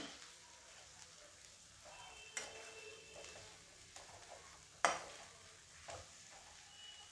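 Coriander bhaji stir-fried in a pan, a faint soft sizzle with occasional scraping stirs and a couple of sharper utensil knocks against the pan.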